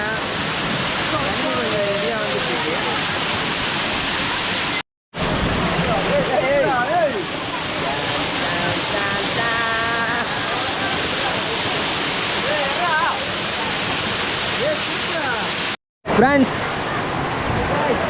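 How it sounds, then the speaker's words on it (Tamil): Masila waterfall in the Kolli Hills roars as a loud, steady broadband rush of falling water, continuous throughout apart from two brief dropouts, with faint voices and birdlike chirps mixed in. "மாசி அருவியில் இருக்கோம்"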